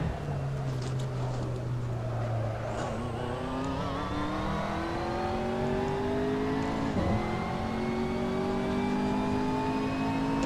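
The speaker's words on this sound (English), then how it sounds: "The engine sounds functional." A McLaren MP4 GT3 race car engine in the Assetto Corsa driving game drones and rises in pitch as it accelerates through the gears, a smooth continuous tone with a brief dip around a shift, steady and close.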